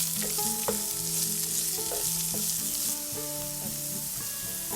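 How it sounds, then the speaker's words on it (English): Onions frying in a pan over medium heat for dhaba-style paneer tikka masala with star anise and javitri, a steady close sizzle with faint stirring clinks throughout. "Add the onions. Fry it until it turns brown in medium heat."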